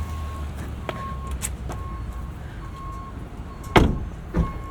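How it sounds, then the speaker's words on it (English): Door of a 2013 BMW X5 xDrive50i closing, a single solid thump near the end of a quiet stretch with a faint repeating chime, followed by a smaller second knock. "That's a solid door close."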